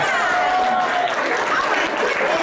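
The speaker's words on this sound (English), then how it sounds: "Give her a big round of applause." At a membership meeting, the audience gives a short, steady burst of clapping that fills the room, with a few voices mixed in.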